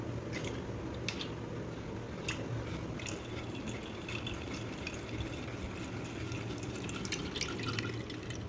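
Watermelon juice blended with beetroot and sugar is strained, giving a steady wet patter of drips and trickles that runs continuously at close range with no talking.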